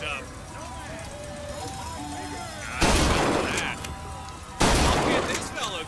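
In the Bioshock Infinite video game, gunfire hits flying robots in two loud, sudden bursts of shots and crashing impacts, heard over steady game ambience and music.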